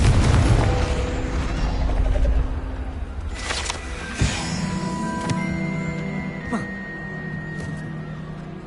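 Confringo blast spell exploding in the game Hogwarts Legacy, a heavy booming burst that fades into rumbling debris, followed by a sharper crack and magical chiming tones.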